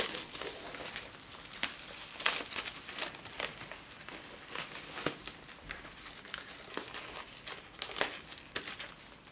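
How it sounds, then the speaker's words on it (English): Shrink wrap is torn and crinkled off a two-LP vinyl set, a run of close, sharp crackles and rips in irregular bursts over several seconds, with no voices. "And off the shrink wrap comes."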